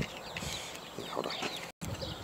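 A rooster and chickens cluck softly nearby amid low rustling, with a brief drop to silence near the end.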